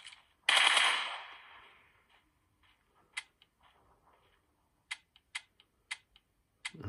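Gunfire in a video game emulated on a Huawei P40 Pro phone: a loud burst of automatic fire at the start fading out, then sparse, crisp single shots spaced irregularly, with no talk.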